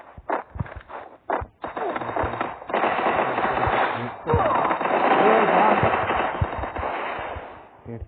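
Rapid automatic gunfire from a shooting video game rattles in dense bursts, loud and close. A few sharp single shots come first, then sustained firing fills most of the clip.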